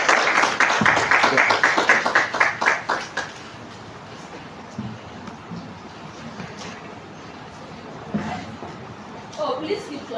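Audience applause at a live financial leadership masterclass, dense rapid clapping from a crowd for about three seconds, then tapering off into scattered claps and room murmur, with a brief burst of clapping again near the end.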